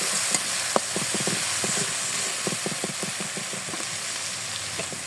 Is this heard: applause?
no